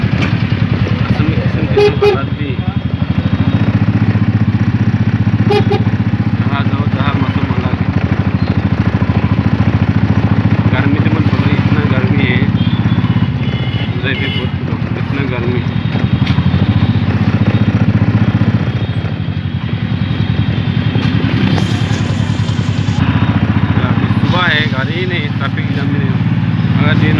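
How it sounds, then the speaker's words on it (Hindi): Busy street traffic in Hojai, India, with motorcycles, cars and rickshaws: a constant loud engine rumble with repeated horn toots cutting through, and people talking over the din. "इसे और गाड़ी ज़्यादा होती है, इतना गाड़ी ज़्यादा है, गाड़ी बोलेगा ना, बाइक बोलेगा ना, रिक्शा बोलेगा ना"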